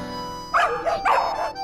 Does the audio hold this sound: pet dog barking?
yes